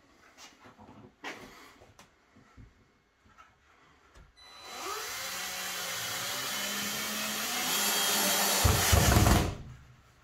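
Power driver sinking a screw into a kitchen worktop: faint clicks and handling noises, then a loud sustained whirring drive that rises briefly before stopping abruptly.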